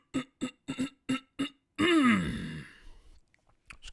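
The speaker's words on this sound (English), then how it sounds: "Just clearing my throat in a very normal way there." A man clears his throat in a short burst of repeated close hacking pulses, then a long gravelly rasp that trails off, recorded close and loud with nothing else around it.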